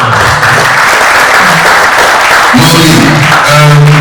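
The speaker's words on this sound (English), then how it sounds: "I think it's just a round of applause." An audience at a space conference in Ghana claps, the broad crowd applause running under tonal sounds and a humming, voice-like drone that rises near the end.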